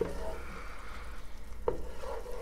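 Saffron and turmeric risotto stirred in a pan, a soft continuous scraping and gentle sizzle with a sharper clink of the spoon partway through.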